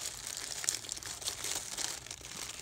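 Wrapping paper crinkles as a gift is unwrapped, a steady crisp rustling and crackling close by with small sharp peaks, no talk.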